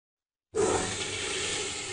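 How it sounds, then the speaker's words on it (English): A household toilet flushes after a brief silence, the rushing water starting abruptly and staying loud and steady, close by and alone. "After using the toilet and flushing it,"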